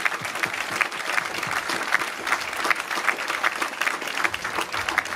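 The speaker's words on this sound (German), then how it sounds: "Ein Applaus für unsere Polizei." An outdoor festival crowd at the Zechenfest stage on Zollverein in Essen applauds the police, a thick, even round of many hands clapping continuously for several seconds.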